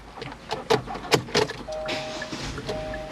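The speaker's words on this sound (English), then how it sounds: "we can start the car." A Kia Forte starts after a battery replacement: sharp key jingles and interior clicks come first, then a low, steady running hum with a faint electronic tone.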